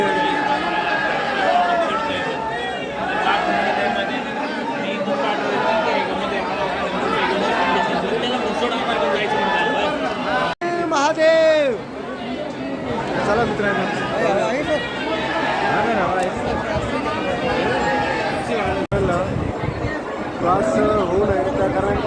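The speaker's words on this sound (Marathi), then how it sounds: "गर्दी फार अशी गर्दी आहे" Dense crowd chatter at the Omkareshwar temple, a constant babble of many voices close around with someone speaking over the throng the whole time.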